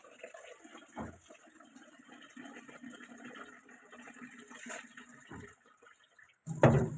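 Water runs into a cooking pot in a home kitchen as a soft, steady trickle with a few faint clinks, ending in a sudden louder splash.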